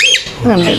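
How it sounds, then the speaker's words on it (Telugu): A rare bird kept in an indoor apartment garden squawks twice, close and loud, with a sharp rising call followed by a longer harsh, wavering cry. "ఒక మంచి రేర్ పక్షి"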